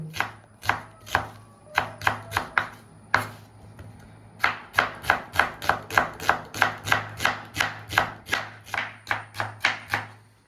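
Steady knife chops through medium-sized onions on a cutting board, close and crisp, in quick irregular runs with a short pause partway through.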